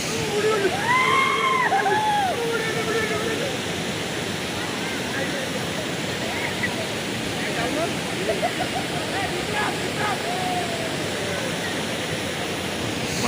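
Khasada waterfall pours in a dense, constant roar of rushing water that fills the whole span without letting up; a few brief voices rise faintly above it near the start.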